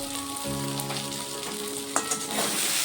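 Spice paste of turmeric, coriander, Kashmiri chili powder and onion paste with a little sugar sizzles and fries in a pan, a constant close hiss with spoon stirring clatter near the end.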